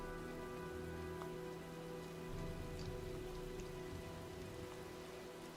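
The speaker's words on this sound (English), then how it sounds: "Well, looks like a storm's coming." Storm rain in the video game Heavy Rain: a steady, dense hiss of rain pouring onto surfaces, continuous and fairly even throughout with no voices.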